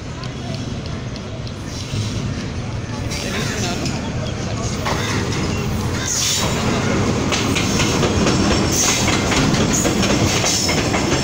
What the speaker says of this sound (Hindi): आ गई ट्रेन, आ गई, बहुत तेज़ आ रही है।